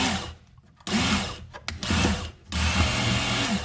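A Work Sharp electric knife and tool sharpener grinding a blade in three loud bursts of whirring motor and abrasive, with short pauses between passes as the knife is switched from side to side.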